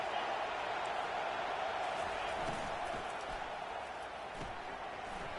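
A football video game stadium crowd on a late-game third down, a broad sustained roar of cheering that fills the whole stretch at moderate level, with faint thumps and speech mixed underneath.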